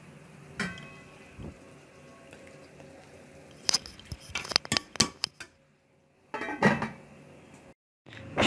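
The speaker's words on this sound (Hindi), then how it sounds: "अच्छे से मिक्स करके इसे हम डिश आउट कर देंगे" Spoon scrapes and clinks against a pot and serving dish as arbi baingan salan curry is ladled out, a few sharp clatters clustered in bursts with quiet gaps between them.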